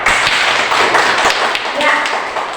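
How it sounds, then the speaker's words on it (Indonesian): Classroom students clap together in a dense, lively burst of applause that lasts a couple of seconds, loud and close. "Tepuk tangan."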